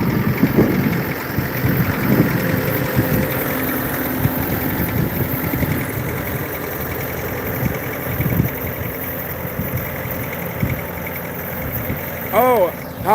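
A tractor's loud engine runs steadily near a pickup truck on a Sunday afternoon in Kirby, Texas, a continuous low rumble and vibration throughout with a brief tonal whine near the end.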